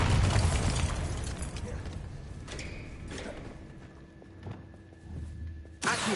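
A Bombarda spell explodes in Hogwarts Legacy with a loud, booming blast that rumbles and slowly fades, followed by a few smaller thuds and pops and one more sharp burst near the end.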